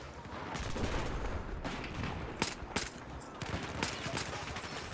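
Gunfire from a Desert Eagle pistol in a first-person shooter game, several sharp loud reports with bursts of other weapon fire from the surrounding match behind them.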